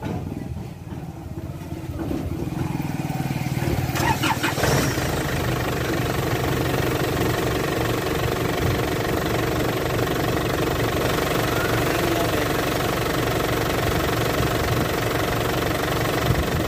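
An Isuzu D-MAX pickup's diesel engine cranks with a brief burst, catches, and settles into a steady, clattering idle with a rhythmic knocking pulse close by.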